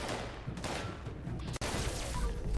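Rapid pistol fire in the video game Fallout 76, a dense, fast run of close, loud shots that blur together almost without gaps, with no one talking over them.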